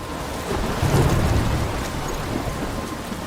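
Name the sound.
thunderstorm with rain in video game Life is Strange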